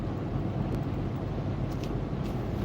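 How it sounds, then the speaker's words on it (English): Truck tires rolling on a road heard while driving, a loud continuous low rumbling road roar that holds steady throughout with no talk. "You can hear that truck with the tires."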